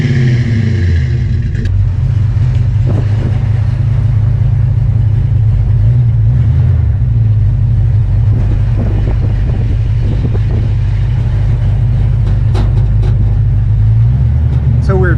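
1965 Ford Mustang with a 289 V8 on its first test drive, a loud, steady engine drone with low rumble and wind buffeting throughout, rattling noises and occasional talk over it.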